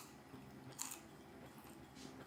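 Crunchy bite into crispy egg-white coated food, giving one sharp crunch near the start followed by quieter chewing close to the mic.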